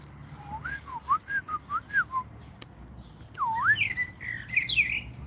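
Bird perched on a branch, giving a run of clear whistled chirps in a quick, even rhythm, then a brief pause followed by higher, sweeping calls, close and distinct with no voices.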